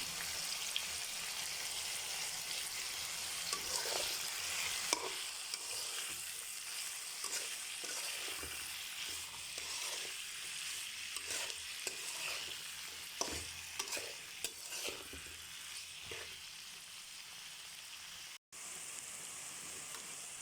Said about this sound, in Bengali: সিমের বেছি আর করলাটা দিয়ে ভাজিটা অর্ধেক ভাজা হয়ে গেছে